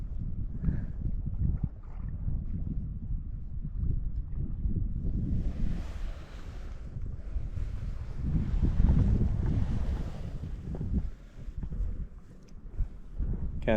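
Wind buffets the microphone during a river trip through the Green River's Labyrinth Canyon, a loud, steady low roar with gusts swelling midway and water sloshing faintly beneath, no voices.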